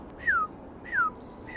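Three clear downward-sliding whistles, evenly spaced, as a person imitates a cardinal's call against quiet background noise.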